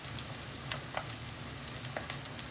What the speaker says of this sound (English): we're using grapeseed oil to fry